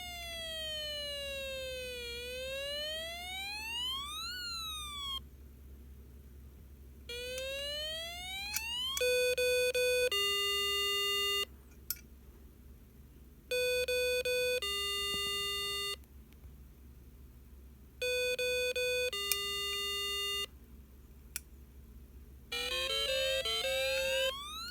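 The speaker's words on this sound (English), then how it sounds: "Now we have a fire engine siren." A Snap Circuits electronic toy sounds a fire engine siren, with electronic tones sweeping steadily up and down, then changing into stepped, alternating beeping tones in repeated bursts with short pauses between them, loud and alone.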